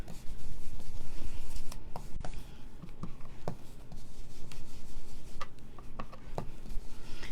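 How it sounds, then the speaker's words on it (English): A sponge dabs and rubs ink onto a small piece of designer paper at a craft table, producing soft, scratchy rubbing with scattered light taps over a steady background hiss, with no talking. "So we're going to sponge the little teeny piece of"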